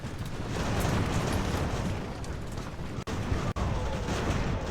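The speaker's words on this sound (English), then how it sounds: "Cannons are now firing on this larger mass." Cannons fire in Ultimate Admiral: Age of Sail, a dense, continuous roll of booming artillery that rumbles loud and heavy throughout, with two brief gaps where the barrage cuts out for an instant.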